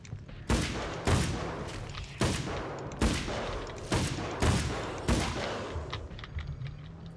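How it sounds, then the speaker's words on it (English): Gunfire in Alan Wake's American Nightmare cracks out in a series of loud, evenly spaced shots, about eight blasts, each with a short trailing echo. "I feel like I'm shooting more than 8 times"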